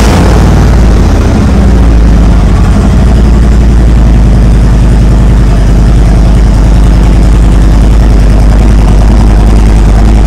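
A loud 2023 Harley-Davidson Road Glide 3 motorcycle idles close by indoors, a deep continuous exhaust rumble with a low throbbing pulse that holds unchanged throughout.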